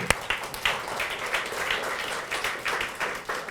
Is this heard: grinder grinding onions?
no